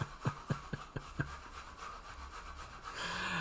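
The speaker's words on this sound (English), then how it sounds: "Now I think once she grates the carrots" A regular series of rasping strokes, about six in a row, sounds at a distance as carrots are grated in a background room, fading into a quiet hum.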